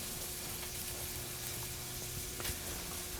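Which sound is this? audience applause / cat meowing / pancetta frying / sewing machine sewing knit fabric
pancetta frying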